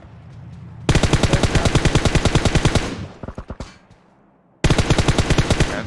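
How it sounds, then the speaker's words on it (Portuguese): Automatic gunfire from PUBG Mobile rattles in loud, rapid bursts, with a long burst, a few scattered shots, a brief pause, then another sustained volley. "Tô tomando tiro da direita aí, ó."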